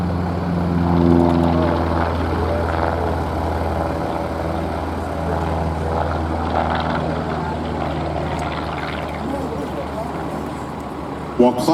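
A Rutan Long-EZ airplane rolls down the runway for takeoff at an airshow, its engine a steady droning hum with a buzzing propeller tone, heard under continuous loudspeaker commentary from an announcer.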